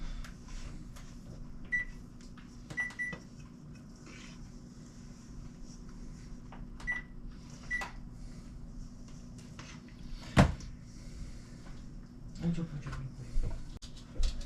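An oven is switched on and set to 400: a few short electronic beeps in quick pairs, then a sharp click and some faint kitchen clatter. Quiet voices murmur in the background.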